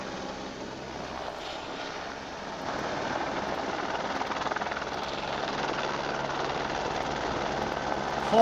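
A steady helicopter drone whirs at a distance, growing a little louder and more pulsing toward the end.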